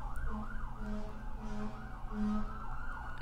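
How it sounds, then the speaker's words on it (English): Emergency vehicle sirens wail in rising and falling sweeps as they pass, loud and continuous over a low rumble of traffic. "here comes the sirens."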